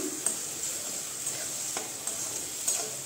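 Yogurt chicken pieces being stirred into spices in a frying pan, giving a soft, even sizzle with occasional light clicks of a spoon against the pan, close and quiet.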